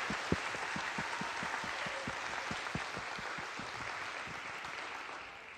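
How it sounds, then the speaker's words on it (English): An audience at a school Christmas band concert claps after the sixth-grade ensembles perform. Dense applause is heard at a moderate distance, holding steady before it slowly thins and fades out. "Can we give everyone another round of applause?"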